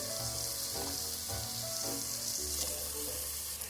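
Onions frying in a pan for a vegan miso soup for small children give a steady, hissing sizzle that runs continuously, with occasional soft knocks of stirring and no voices.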